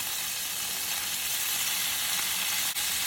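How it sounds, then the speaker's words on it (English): Hamburger steaks searing in a skillet, a steady dense sizzle and crackle of frying meat, close and continuous without talking. "We want them to get a nice sear on them because they're going to continue cooking after we've made the gravy."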